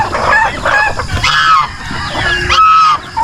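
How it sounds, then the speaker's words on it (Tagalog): Chickens on a pig farm in the Philippines, including a tethered one, cluck and squawk close by in several quick, excited bursts, with rising and falling calls overlapping. "dito naman sa manok na nakatali"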